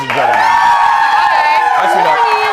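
A television studio audience cheers and whoops loudly and continuously, with shrill shouts and whistles rising over a steady roar of applause.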